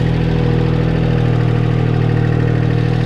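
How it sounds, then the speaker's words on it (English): Tractor engine held at a steady throttle around 1500 rpm while cultivating wet ground, a loud, continuous low drone with a constant pulsing hum and no talk. "we'll give her a little throttle here. Run it about 1500 on the tack."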